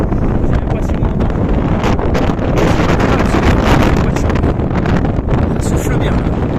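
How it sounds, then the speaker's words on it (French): Strong gusty wind buffets the microphone on a mountain summit in the Cantal, a loud continuous roar of rushing air with voices faintly present beneath it. "Le vent s'est levé là"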